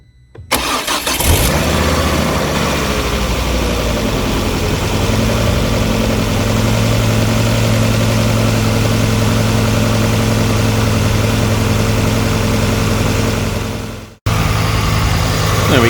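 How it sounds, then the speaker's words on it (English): Ford Focus ST engine cranks and catches after a fuel rail pressure sensor replacement, then settles into a loud, steady, slightly noisy idle that holds close and constant before cutting briefly near the end. "So now, in theory, the car should start."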